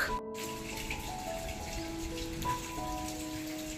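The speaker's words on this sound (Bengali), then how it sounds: "বৃষ্টি হচ্ছে।" Rain falls in a soft, steady patter, faint and continuous, while sustained tonal sounds ring over it in a home setting.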